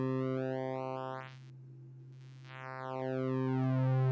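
A buzzy warped sine synth tone from the Audio Damage Continua sweeps downward in pitch, dips quiet for a moment, then warps back up and sustains, growing slightly louder at the end.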